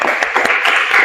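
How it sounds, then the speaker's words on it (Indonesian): A school classroom of students claps briefly for a classmate during a floor gymnastics lesson, a short burst of close, mixed hand claps. "Oke, tepuk tangan dulu buat Ibnu"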